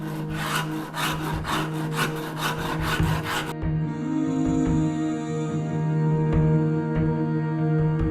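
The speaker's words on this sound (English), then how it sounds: "I always start off with this guy right here, the Shinto, and start taking off some material" A Shinto rasp strokes across the wood of a guitar neck in a quick, even rhythm of scraping passes, then stops as a sustained musical tone carries on underneath.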